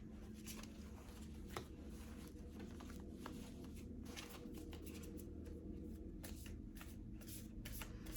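Oracle cards being shuffled and pulled by hand: a quiet, close, continuous riffling and soft papery flicking with small taps, heard alone without talk.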